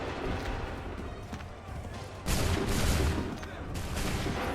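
Musket volley fire in the Assassin's Creed III video game, a loud sudden burst of massed gunshots midway that rumbles and crackles on, with battlefield noise before and after.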